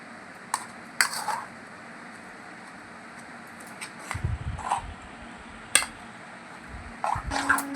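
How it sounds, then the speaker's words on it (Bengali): A utensil beats a semolina and potato batter in a bowl, giving scattered metallic clinks against the bowl and short bursts of soft, wet scraping, close up and without talk. "ভালো করে এইভাবে ফেটিয়ে নিতে হবে"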